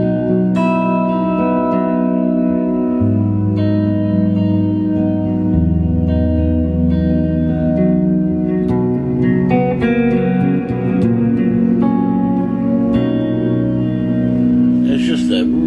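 An electric guitar plays a clean tone through a budget tube amp head, using its built-in reverb plus an Eventide H9 reverb. Loud chords ring out and sustain with a light echo tail throughout.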